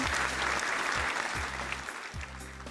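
Young children at a Shrovetide folk lesson clap their hands together as a group, a brisk burst of close clapping that fades slightly toward the end, with a low background hum beneath.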